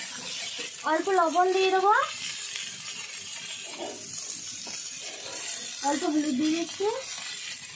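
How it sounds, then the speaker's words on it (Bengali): Pointed gourd (potol) pieces frying in hot oil, a steady broadband sizzle running throughout, while someone talks over it in two stretches. "তেল গরম হয়ে গেছে, আটাটা খুব জ্বলে উঠেছে, পটলগুলো ছেড়ে দিচ্ছি।"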